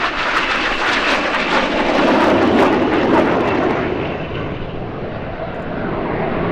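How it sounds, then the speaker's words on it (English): Red Arrows jet aircraft performing an aerobatic display at the Midlands Air Festival, a loud roaring jet rush that swells and slowly fades as the formation pulls hard through a manoeuvre, alone with no talk. "Each aircraft pulling hard now to 5 to 6G."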